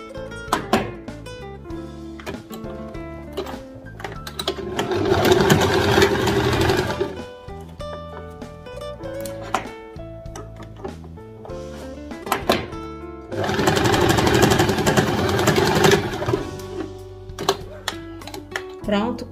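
A sewing machine stitches the shoulder seam of a dress in two loud rapid bursts of close mechanical whirring and clatter, with speech and background music around the stitching.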